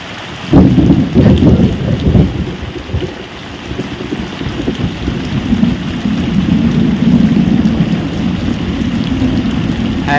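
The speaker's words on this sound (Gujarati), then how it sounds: "એ હમણાં કડાકા થાય મિત્રો" Thunder rumbles and cracks loudly near the start during heavy village rain in Botad, followed by a steady roar of downpour that fills the rest without talk.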